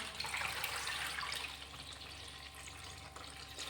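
Water pours steadily into a tub being filled at home to wash a suit. It makes a soft, continuous hiss and splash, faint and unbroken, with no voices.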